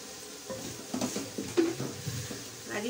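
Ingredients lightly frying in a pan, a soft sizzle with quiet spoon scrapes and small clinks of metal against the cookware, close and faint.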